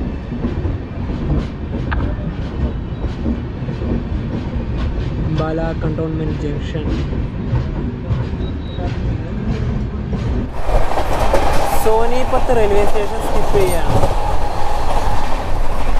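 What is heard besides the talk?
Amritsar to Kochuveli express train running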